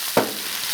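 Cooking wine poured into a hot wok of loach hits with one sudden sharp sizzle that flares loudly, then settles into a steady background hiss of frying.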